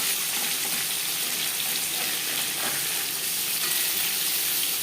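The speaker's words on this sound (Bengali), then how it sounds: "মাছ ভাজবার সময়" Thin-cut catla fish fries in a kadai over high flame, producing a loud, continuous, close-up crackling sizzle that holds at the same level throughout.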